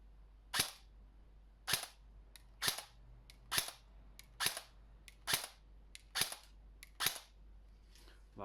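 Cyma MP5 airsoft gun shooting BBs at a wooden pallet, about nine sharp snapping shots at a steady pace of roughly one per second, with faint impact clicks between them over a low background hum.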